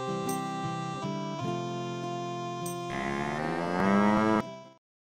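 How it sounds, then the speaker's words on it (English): A cow lets out one long, loud, drawn-out moo close by. It wavers in pitch, swells toward the end and then cuts off. "Now that is a good cow."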